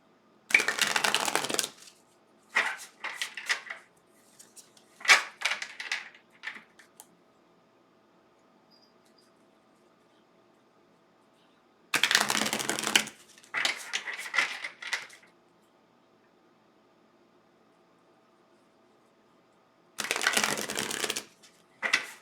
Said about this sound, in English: Let me shuffle the cards for Leo.